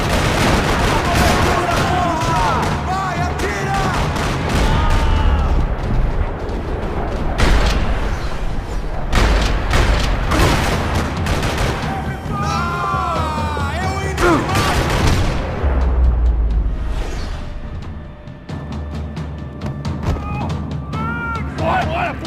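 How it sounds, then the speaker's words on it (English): Dense bursts of rapid gunfire and heavy booms rattle through a parking lot in Max Payne 3, mixed with game music and effects, with voices speaking over the shooting. "Another parking lot rattling with gunfire."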